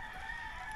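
A rooster crows in a rural spot along the Marilaque road toward Real, Quezon. The sound is a short, faint, steady tone lasting under a second over low background rumble.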